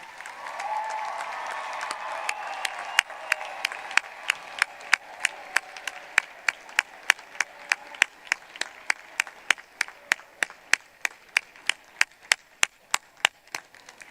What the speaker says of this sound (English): Give them a round of loving applause for all that they have done to support you.